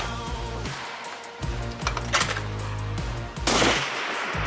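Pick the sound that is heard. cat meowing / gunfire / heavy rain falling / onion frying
gunfire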